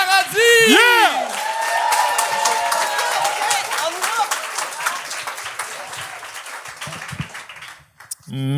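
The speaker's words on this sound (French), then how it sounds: "Un tonnerre d'applaudissements pour le premier" Comedy club audience at a Quebec stand-up show breaks into loud applause and whoops for the first comedian, opening with a cheering shout and sustained clapping that thins out toward the end.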